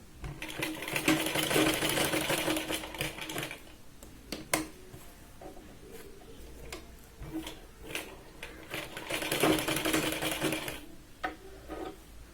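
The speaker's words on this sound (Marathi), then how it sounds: "इथे साधारण अर्धा इंच आत आपण हे तिला शिलाई लावतोय." Sewing machine stitching a katori blouse, running in two sustained bursts of rapid mechanical chatter with a quieter stretch of handling clicks and fabric adjustment between them.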